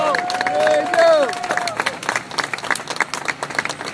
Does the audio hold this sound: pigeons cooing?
no